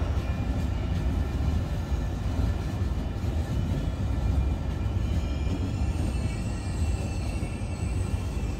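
A train pulls in at Firenze S.M.N. station platform with a steady, loud rumble that holds for several seconds, with faint high squeals above it and no voices.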